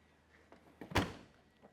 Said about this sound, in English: Trunk shuts really nice.